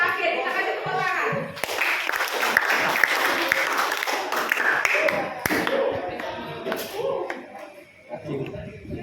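A classroom audience applauds a final group in a loud burst of clapping with sharp taps and thuds, while voices talk over it and the clapping thins out near the end.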